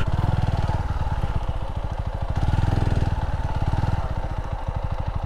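A motorcycle pushes through flood mud, its engine a close, loud, rapid throbbing beat that swells and eases in waves without any talking.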